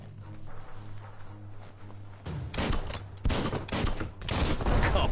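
An exploding barrel is shot in the video game Biomutant, bursting into loud, crackling blasts after a quieter stretch, with several heavy noisy surges following in quick succession.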